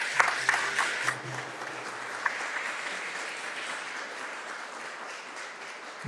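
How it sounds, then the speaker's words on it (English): Steady applause from a school crowd at an outdoor unveiling of Indigenous art pieces, a sustained wash of many hands clapping at moderate distance, slowly tapering off. "Let's give a round of applause to our artists."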